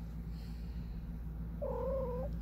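A cat gives a single drawn-out meow near the end, heard close and clear over a steady low hum with no talking.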